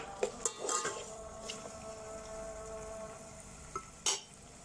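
Lemongrass, ginger, black pepper and other adobong tilapia ingredients stirred in a rice cooker pot: scattered scraping and clinking strokes of a utensil against the pot over a faint sizzle, with no voices.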